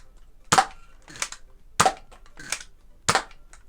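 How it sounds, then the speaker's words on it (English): A Nerf Elite 2.0 Prospect QS-4 blaster fires preloaded foam darts: three sharp, loud spring-powered pops spaced evenly about 1.3 seconds apart, each followed by a softer mechanical rattle of the priming slide, with no talk. "So here's the initial firing with the preloaded rounds."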